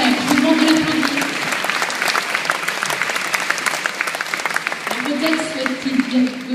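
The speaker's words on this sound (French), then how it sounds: "Je vous demande de l'applaudir." An audience at a hairdressing graduation ceremony applauds with dense, sustained clapping close by, while a voice speaks over it at the start and again near the end.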